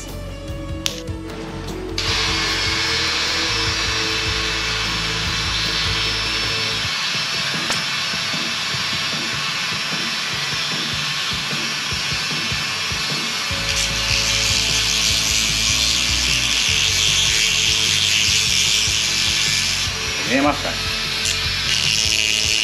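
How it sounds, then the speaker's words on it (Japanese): An abrasive grinding tool wears down a steel part on a Honda DAX125 motorcycle, a loud, steady, high whirring grind close by that runs continuously with slight changes in pitch and load. "研磨のやつ 時間かけて削っていきたいなというふうに思います"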